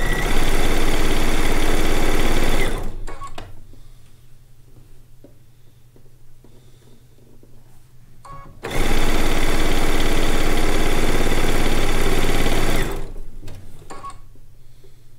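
A sewing machine chain-pieces quilt blocks in two loud, sustained runs of close motor whir, separated by a quieter stretch of faint handling noises and a low hum.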